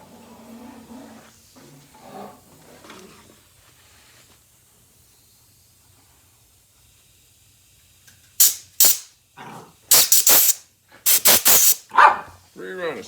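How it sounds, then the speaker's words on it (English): Short loud bursts of compressed air blown at a 1982 Suzuki GS1100 carburetor float, several sharp hissing blasts late in the clip after quieter talk and handling noises. "And then some compressed air."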